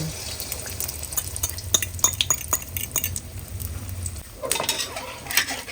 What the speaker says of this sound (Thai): ตั้งกระทะ ใส่น้ำมัน น้ำมันร้อนแล้วนำไข่ลงไปทอดเลยนะคะเจียวได้เลย